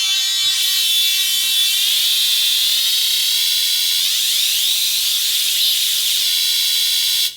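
An Elektron Syntakt synth plays a sustained, bright, shimmering texture with sweeping harmonic movement, loud and continuous for about seven seconds before cutting off, with no voices.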